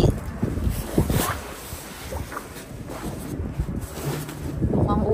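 Strong wind gusts outdoors in overcast weather before rain, rumbling and buffeting the microphone in uneven surges, with a person talking over it.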